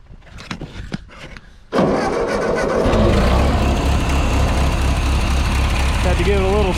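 A vintage tractor, a Ford 2N or Farmall M, cranks over in the cold with a few uneven puffs, then catches and settles into a loud, steady, chugging idle close by. A voice speaks near the end.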